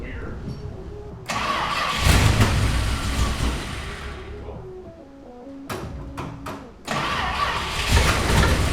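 Old Mopar barn find car engine cranking and catching, rising into a loud rough idle with a brief dip and surge, voices speaking over it.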